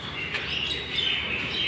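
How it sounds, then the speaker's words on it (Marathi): Small birds chirp and tweet among green trees on a morning walk at Rishivan in Borivali, bright repeated calls at moderate distance over faint ambient background. "पक्ष्यांचा पण आवाज येतोय"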